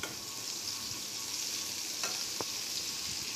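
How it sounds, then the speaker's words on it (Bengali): A close, even hiss of onions frying in a pan for a pangas fish curry, nearly browned, with a couple of sharp stirring scrapes over the continuous sizzle. "পেঁয়াজটা ভাজা ভাজা হয়ে গেছে।"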